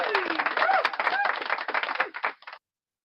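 A round of hand clapping during a casual breakfast livestream chat, with dense, rapid claps that blend with voices and cheering, then cut off abruptly.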